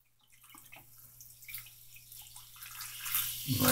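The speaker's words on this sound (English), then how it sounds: "I'm going to pour it into the overflow using a funnel." White vinegar pours through a funnel into a bathtub drain overflow, a thin trickle that swells into a steady, louder gurgling flow with dripping near the end, close and alone.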